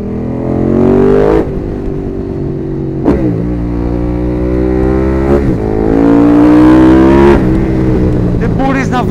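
A motorbike engine revs hard at full throttle, rising and falling in repeated high-pitched surges with brief drops between pulls, loud and close, with the rider's voice over it.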